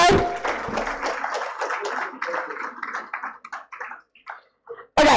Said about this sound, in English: Students, please clap for her.